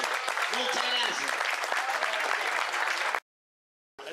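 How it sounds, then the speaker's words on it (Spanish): Sustained applause from a crowd at a livestock auction in Tres Isletas. It runs loud and dense for about three seconds with some voices mixed in, cuts off sharply, and resumes briefly after a short silence. "un fuerte aplauso"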